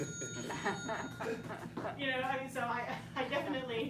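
A phone rings with a warbling electronic trill that comes in repeated bursts, sounding under a man's ongoing speech.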